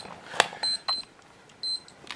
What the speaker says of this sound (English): my timer's about to go off on me now